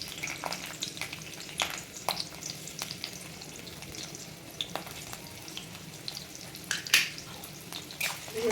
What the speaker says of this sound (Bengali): তেলটা গরম হয়ে গেছে। আমি কেটে রাখা পেঁয়াজ কুচি আর লঙ্কা কুচি তেলের মধ্যে দিয়ে দেবো।